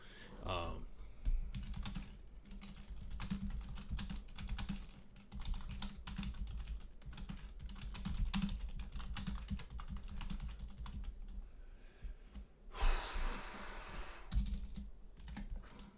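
Quiet, steady clicking of keys on a computer keyboard, a continuous patter of individual keystrokes close by at low level, with a brief louder rustle near the end.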